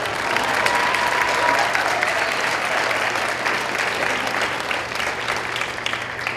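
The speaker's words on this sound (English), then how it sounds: "so if you give him a round of applause." Audience applause at a school holiday concert: dense, even clapping from a crowd that stays strong throughout with no voices over it.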